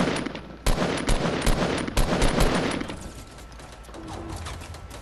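Rapid gunfire bursts in the Fortnite battle royale video game, several sharp loud volleys in quick succession during the first three seconds, then softer scattered shots and game ambience.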